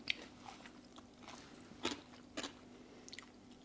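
Walkers Doritos crisps are crunched and chewed close up, with a few sharp bites standing out over quiet background hum, faint and without speech.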